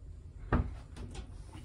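A drawer or cupboard door in a cruise ship balcony cabin is opened or shut once with a single close knock, followed by a few faint softer clicks, with no one talking.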